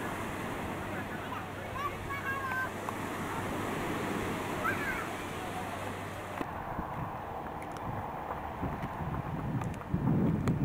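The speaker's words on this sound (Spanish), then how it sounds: "Que bonito o mar, hein?" Sea waves wash steadily against a Valencia shoreline, a broad continuous surf roar with wind buffeting the microphone, while a person speaks briefly over the water.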